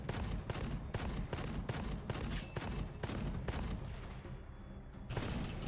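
The starting weapon in the video game Gunfire Reborn fires loud, evenly spaced shots close up, a steady rhythm of about two per second, pausing briefly before a final blast.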